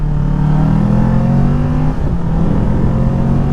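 A 2020 Kawasaki Ninja 650 motorcycle engine runs loud and close with a steady, smooth droning rev that holds nearly constant, with a slight dip and recovery partway through.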